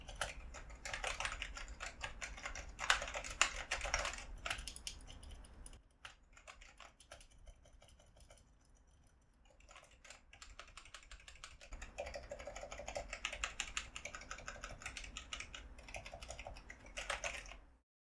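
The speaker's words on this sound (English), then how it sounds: "These switches do a fairly decent job of replicating a mechanical switch, but do feel a bit mushy, so here is a typing test for your reference" Steady typing on a Cougar Deathfire EX gaming keyboard with hybrid mechanical switches gives a quiet, continuous clatter of keystrokes. It eases off briefly midway, then picks back up at full pace.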